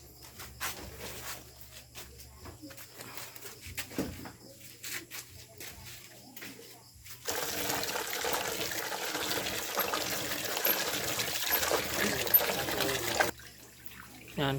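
Young coconuts just harvested from the tree are washed in water, with soft sloshing and dripping at first, then a steady rush of pouring or splashing water for several seconds before it suddenly stops.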